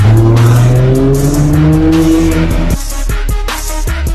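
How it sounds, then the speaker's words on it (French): A McLaren Senna supercar on the streets of Monaco during the Grand Prix, its engine revving loudly and rising in pitch as it accelerates past, close by, with no talk. "McLaren Senna"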